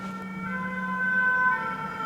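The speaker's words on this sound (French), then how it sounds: "là j'entends l'ambulance, ou les pompiers, je ne sais pas" An ambulance or fire engine siren outside, heard from indoors as a steady, sustained wailing tone, moderately loud and continuous with no speech over it.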